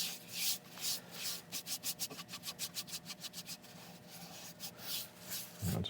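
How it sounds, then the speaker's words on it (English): Northern Grit abrasive paste is rubbed onto a turned London plane wood piece, making rhythmic, close, hissing rubbing strokes in a quick even series, with softer scuffs before and after. "So we'll go on again with the Northern Grit abrasive paste"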